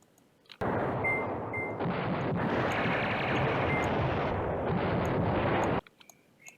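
In the Command Ops 2 wargame set on Hell's Highway, artillery fire forms a loud, dense, continuous rumbling roar that starts abruptly, holds for about five seconds, then cuts off, with faint electronic beeps around it.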